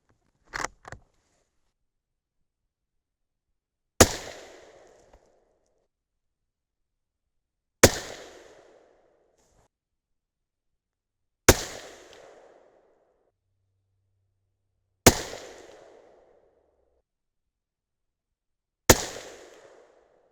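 Five sharp rifle shots from a 6.5 Creedmoor firing 140gr Barnes Match Burner loads with AA4350 or N550 powder crack out at a steady interval of about four seconds. Each shot is loud and close, with a short reverberant tail and near silence between shots.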